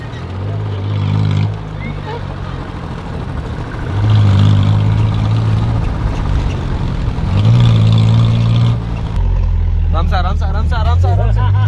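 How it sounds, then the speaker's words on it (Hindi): Engines of a modified car split into two parts, both running together, a loud continuous motor drone rising and falling in pitch with revving surges, heard close with voices talking over it. "दोनों इंजन एक साथ पावर में आएंगे।"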